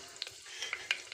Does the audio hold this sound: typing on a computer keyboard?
no